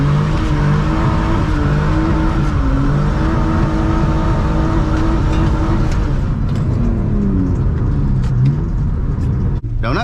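BMW E46 car revving hard while doing doughnuts on a wet, rainy road, the loud engine droning and rising in pitch continuously up close before cutting off abruptly at the end.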